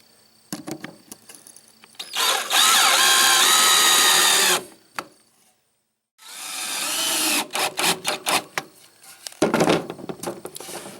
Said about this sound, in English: you can start screwing it down.